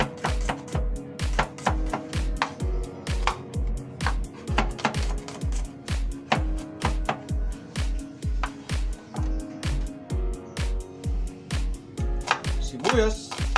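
A knife chops garlic on a board in a steady, rapid rhythm of close, crisp strikes, carrying on without a break as prep for simple pork humba.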